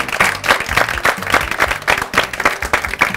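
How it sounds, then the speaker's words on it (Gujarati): Studio audience on a game show breaking into loud, dense applause, many hands clapping in a steady rolling wash that stays strong throughout. "તો હિનાબેન માટે એકવાર જોરદાર તાળીઓ થઈ જાય."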